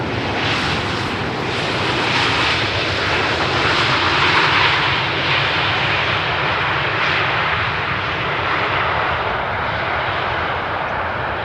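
Dutch government plane PH-GOV landing at Amsterdam Schiphol on runway 18R, a steady loud broadband engine roar that swells slightly mid-pass and holds throughout, with no voices.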